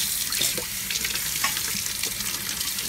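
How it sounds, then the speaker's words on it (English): Spiraletti parts are rinsed under a running kitchen tap, a steady splashing water stream with occasional clinks and knocks of the parts in the sink, close by and continuous. "Rinse that off."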